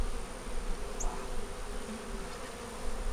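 Honeybees buzz around their hive on a fine day, a dense, continuous hum of many insects close by with one louder bee passing near the middle.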